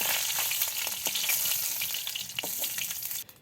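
Chopped onion and green chili sizzle in oil in a wok before okra frying, a steady close crackling hiss with small pops that stops abruptly near the end.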